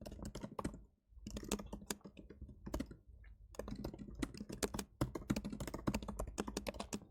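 Rapid typing on a laptop keyboard during coding, dense clusters of close crisp key clicks with brief pauses between bursts and no talk.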